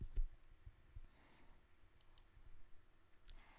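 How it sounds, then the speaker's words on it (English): A computer mouse gives a single faint click near the start, followed by a quiet, nearly empty room with only slight soft ticks. "I'm going to click on it."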